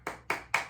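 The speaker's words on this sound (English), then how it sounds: "give yourselves a big clap" Three sharp, evenly spaced hand claps from a Pilates class, close and crisp with no talking.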